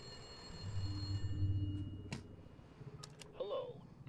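A phone rings in the Califonium video game, a short electronic trill at moderate volume that stops after about two seconds, followed by sparse clicks and a brief swooping tone over quiet background.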